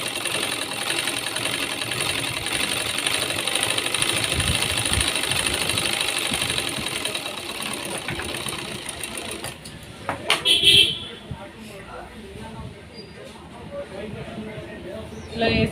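Sewing machine stitching a dabba-style blouse neckline, a steady loud whirring hum that stops partway through, followed by brief handling clatter and quieter background.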